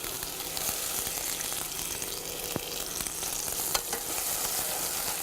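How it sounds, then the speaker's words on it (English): Chopped onion fries with mustard seeds in a deep pan, giving a steady, loud sizzle with a few crackles and stirring scrapes, close and continuous throughout. "I'm just going to add the onion in now."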